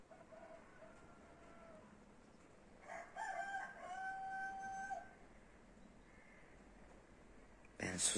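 Roosters in a Turkish village garden crow at each other, one distant call answered by a louder, nearer crow in the middle, with soft coos and light background noise around them.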